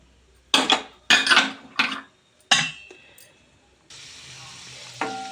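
Raisins and dry fruits frying in ghee in a pan, several sharp clatters of a utensil against metal at first, then a steady close sizzle with one more knock near the end.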